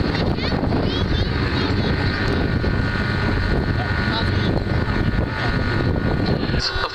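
Four Wright radial piston engines of 1,200 horsepower each drive a large aircraft at an airshow in Dublin, a steady loud droning roar with wind noise that holds unbroken throughout.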